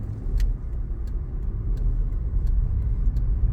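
A car passes near a stopped learner vehicle at a parking area on a driving-test route: a steady, close, low engine and tyre rumble that holds throughout, with no voices.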